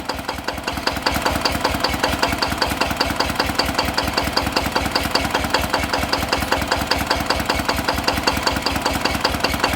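A Yanmar Singh Phayong diesel engine runs close and loud with a fast, even knocking beat, steadying into a strong rhythmic chug after a brief rise in the first second.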